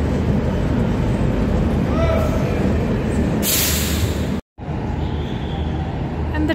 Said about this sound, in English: And the train continues its journey